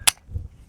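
A single sharp pistol shot from a PSA Micro Dagger, short and loud, followed by a brief low rumble as it fades.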